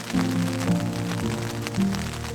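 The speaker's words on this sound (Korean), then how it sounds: "텐트 안에서 빗소리를 듣고 있는 것은 언제나 포근하고 편안하다." Steady rain patters on a taut tent roof overhead during a backpacking trip on a mountain, a continuous soft drumming with a low hum underneath.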